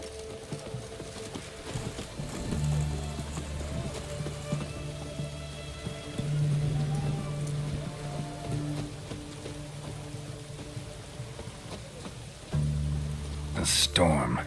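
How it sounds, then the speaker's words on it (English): Heavy rain pours down in The Witcher 3, a steady hiss of falling water mixed with droning game music and occasional thuds, a voice speaking in the scene. "What a downpour."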